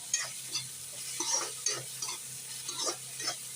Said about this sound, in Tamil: இந்த பொரிச்சு எடுத்துருக்க கத்திரிக்காய் இதில் ஆட் பண்ணிவிட்டு நம்ம நல்லா போட்டு மிக்ஸ் பண்ணி விட்டுடலாம்